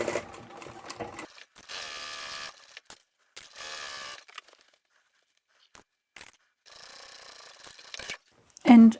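A sewing machine stitches the seams of a large zippered handbag made from upholstery and vinyl sample swatches, running in several separate mechanical bursts of rapid ratcheting with short pauses between, close up, with a sharp clunk at the end.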